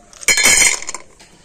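Lumps of red batasha jaggery dropped into a frying pan, making a sudden loud, bright clatter of hard pieces hitting metal that rattles on briefly and then dies away.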